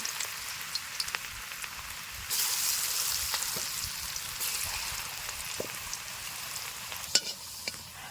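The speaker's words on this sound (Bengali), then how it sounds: "আলুগুলোকে আগে ভেজে নিচ্ছি" Potatoes frying in a pan for a Bengali cauliflower roast, a steady broadband sizzle running throughout with a louder surge partway in and scattered crackles and faint utensil taps, no voices.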